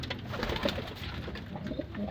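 Pigeons cooing softly and steadily, low throaty calls repeating throughout at moderate distance.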